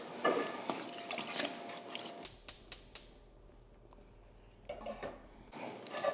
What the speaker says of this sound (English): Just gonna give this a little bit of a stir